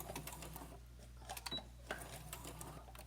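A sewing machine back stitches on a zipper infinity scarf, a soft, fast mechanical whir with a few light clicks over a steady low motor hum.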